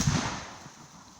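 A single sharp report from an Airforce Texan .457 big-bore air rifle fired at a pumpkin 40 yards away, a loud close crack at the start fading into a brief outdoor decay.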